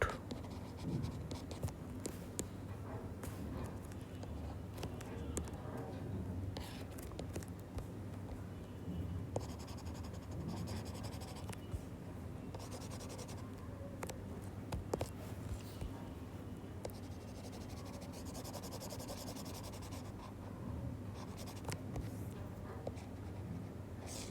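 A pen scratches steadily across paper in short strokes while an accounting total is worked out, quiet and close, with someone talking softly at times.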